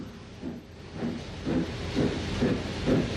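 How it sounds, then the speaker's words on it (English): A 1950s steam locomotive at Brighton hisses steadily as it heads off to the shed for servicing, with soft rhythmic puffs swelling roughly every half second over a constant broadband wash of steam. "At Brighton, the loco goes off to the shed for servicing."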